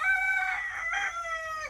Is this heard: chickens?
yes